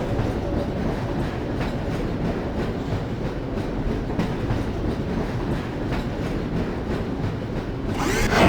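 A train riding on rails in the Half-Life: Source video game, a loud continuous rumble with a steady clickety-clack of wheels over rail joints, close and alone.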